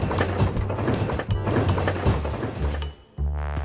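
A car's worn CV joint clicking and knocking in a steady mechanical rhythm over low rumbling, close and fairly loud, then dropping out briefly before a low hum resumes.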